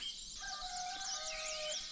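A rooster crows in a long drawn-out call over a bed of chirping birds in early morning in Sagada, moderately distant and steady.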